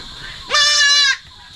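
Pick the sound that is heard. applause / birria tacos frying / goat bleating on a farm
goat bleating on a farm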